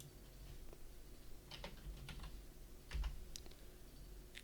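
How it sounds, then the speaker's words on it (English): Typing on a computer keyboard, a few faint, sparse key clicks scattered over a quiet background hum. "bad typing."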